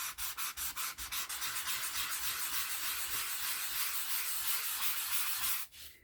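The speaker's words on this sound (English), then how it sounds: "I'm going to rough it up with my sand block" A sanding block roughs up a wood grain finish on a cabinet card in quick rasping strokes, rhythmic at first and then a continuous close scrubbing, stopping abruptly near the end.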